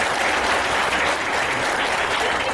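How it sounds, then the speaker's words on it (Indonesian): Applause from a crowd at a Golkar party Ramadan gathering, a dense, continuous wash of many hands clapping at once, loud and unbroken throughout. "Tepuk tangan ya."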